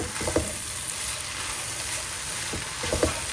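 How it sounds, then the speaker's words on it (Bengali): Potatoes and other ingredients frying in a pan, with a steady hissing sizzle throughout and a few close scraping stir strokes against the pan near the start and end. "লাড়াচাড়া দিয়া সবটা একলগে ফ্রাই করার পরে"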